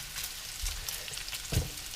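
Fried mac and cheese sizzles in a pan while a spoon stirs it, a soft steady crackle broken by a few scraping knocks, with no talk.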